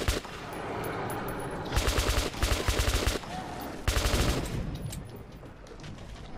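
Rapid automatic gunfire in the shooter game Metro 2033 Redux, several loud bursts cutting in and out over steady game background noise.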